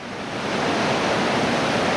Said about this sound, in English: getting a roller coaster ride through these waves right here